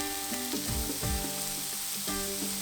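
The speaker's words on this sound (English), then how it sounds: "you'll need to saute to extract the inside moisture before you season them" Mushrooms sauté in a pan with a soft, steady sizzle, fairly quiet, with a few stirring bumps and background music underneath.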